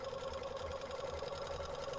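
Sewing machine stitching a zipper on with back tacking, a steady fast mechanical whir with rapid needle rhythm, close and continuous, no voices.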